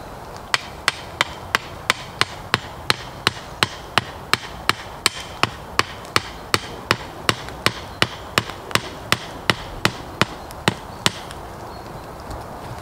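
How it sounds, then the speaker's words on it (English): A wooden fork stick is hammered into the ground beside a campfire: around thirty sharp, even knocks in a steady fast rhythm, close and clear, with no voices. "I'm going to hammer it in between the peg and the fire"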